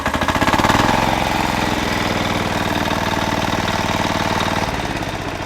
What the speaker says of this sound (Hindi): डीजल इंजन है और सेल्फ स्टार्ट है।